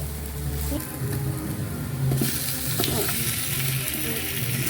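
Onions sautéing with salt in a pan for biryani crackle and sizzle steadily, with scraping stirring strokes and brief clatters partway through, close by.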